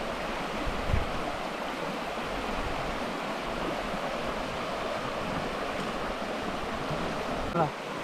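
Steady rushing water flowing strongly, a continuous broadband roar with a couple of brief low thumps.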